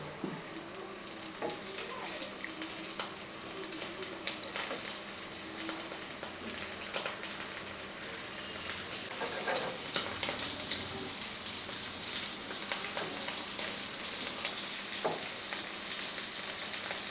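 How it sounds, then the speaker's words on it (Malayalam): Dried fish fries in a pan for a Kerala lunch, giving a continuous, fairly quiet sizzle and crackle with a few faint pops and no talking. "അപ്പോൾ ഒരു ഭാഗം ഇങ്ങനെ ഫ്രൈ ആയി വരുന്നുണ്ട്"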